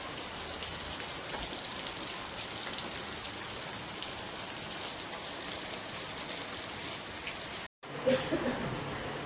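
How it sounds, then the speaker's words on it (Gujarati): Rain falls outdoors in a steady, even patter for several seconds, then cuts off briefly before resuming with a few louder splashes nearby. "વરસાદ ચાલુ થઈ ગયો"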